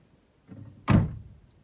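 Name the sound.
car door of a 1969 Chevy Impala closing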